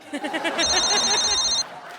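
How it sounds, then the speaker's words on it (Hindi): On a comedy stage set, an electronic phone ring sounds for about a second as a steady high tone, mixed with voices and laughter-like chatter. "एक मिनट, फोन आ गया"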